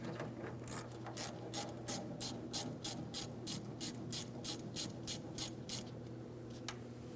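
An 8 mm ratchet loosens the fuel filler hose clamp on a 2007-2014 GMC Sierra 2500 HD 6.0L V8, giving a steady, rapid series of close, quiet ratcheting clicks that then stop.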